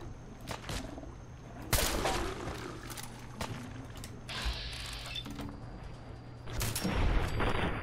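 Gunfire in Fallout 4, with several sharp shots scattered among mechanical clanks and creaks, moderately loud and irregular, with no talk.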